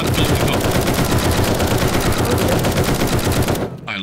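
A gun in the video game 7 Days to Die fires in a loud, continuous rapid burst of shots that lasts several seconds before cutting off abruptly.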